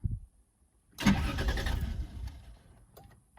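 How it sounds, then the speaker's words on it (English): The starter of a third-generation Toyota 4Runner whirs and cranks steadily for about a second during a timing belt replacement, with a low mechanical churn that trails off without the engine catching. "We've got the key in the ignition. I'm gonna crank it for 1 second."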